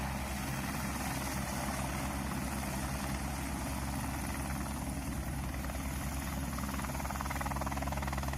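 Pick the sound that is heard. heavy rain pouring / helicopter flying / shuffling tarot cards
helicopter flying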